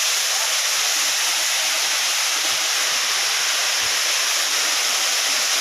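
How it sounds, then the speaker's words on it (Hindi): A village waterfall roars steadily nearby, a loud, dense, unbroken rush of falling water that fills the whole stretch without pauses or voices. "देखिए पानी गिर रहा है, और कितना अच्छा लग रहा है जब भी पानी गिरता है।"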